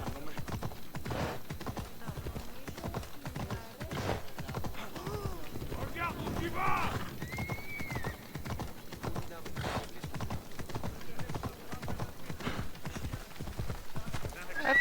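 Horse hooves clip-clop steadily in a video game, a rapid rhythmic trot running throughout with a brief whinny midway, under casual talking.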